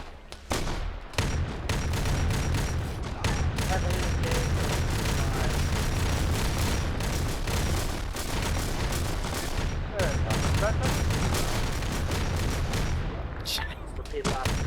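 Dense, continuous video game gunfire in a large multiplayer battle on an island map, with rapid overlapping shots and booms sustained loudly throughout and a brief lull near the start, voices talking faintly underneath.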